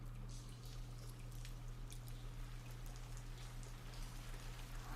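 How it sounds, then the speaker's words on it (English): Rain in a Goblin Slayer anime episode patters steadily on a surface, with scattered drips and a constant low hum beneath, heard quietly and without talk. "Is that rain?"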